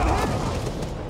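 A cannon firing in the video game Firefall lets out a heavy, booming blast that rumbles and spreads for about a second, loud and close, with a dense low-end roar and no voice over it.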